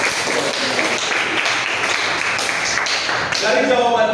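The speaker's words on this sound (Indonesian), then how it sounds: "Kita beri tepuk tangan dulu." A classroom of students applauds, broad steady clapping noise filling the whole stretch at moderate loudness, with a voice speaking briefly near the end.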